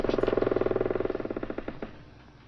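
A reversed human burp used as a submarine engine sound gives a rapid, pulsing, throaty rattle that swells in and then slows and fades out over a couple of seconds.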